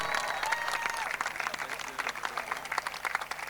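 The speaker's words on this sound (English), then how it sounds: "I think they deserve a very big round of applause" Moderate crowd applause for a women's league team reaching the final, steady dense clapping with a few brief whoops, continuing throughout.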